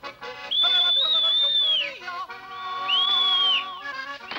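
A girl whistles two long, bright, sustained notes, each ending with a falling slide, clear and close over a soft orchestral backing, with no talking.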